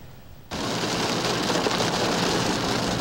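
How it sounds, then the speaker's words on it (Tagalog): Heavy, gusty all-day rain in Ilocos Sur under a storm signal, a dense, loud, continuous downpour that cuts in suddenly and keeps going without talk. "Malakas ang maghapong pabugso-bugsong ulan sa Ilocos Sur."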